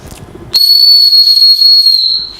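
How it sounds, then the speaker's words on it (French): A safety whistle gives a loud, shrill blast indoors, holding a steady high pitch for about one and a half seconds, then stopping abruptly, close and piercing. "ce qu'on va trouver dessus, c'est un sifflet. Je suis obligé de vous faire écouter"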